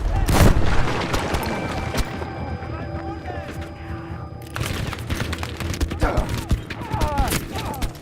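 Heavy booming blasts and crackling explosions of cannon fire in Battlefield V go off in bursts, loud and close, with a lull midway before another volley of cannon-like fire.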